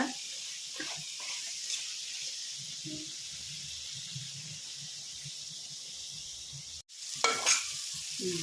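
Yogurt-marinated chicken frying in a pan for hotel-style chicken sambar, a steady sizzle with soft stirring scrapes, a brief gap, then louder rapid stirring near the end.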